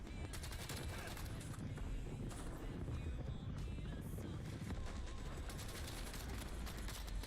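Sustained gunfire in the video game Warzone, with repeated volleys and automatic bursts over a droning background that may include a helicopter, loud and continuous throughout.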